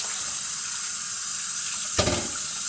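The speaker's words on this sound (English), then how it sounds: "all you have to do is go back in the faucet and wash it like this" Tap water runs steadily from a kitchen faucet as meat (feet for soup) is rinsed under it, a continuous close hiss with a brief splashing burst near the end.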